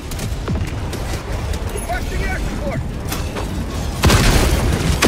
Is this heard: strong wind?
no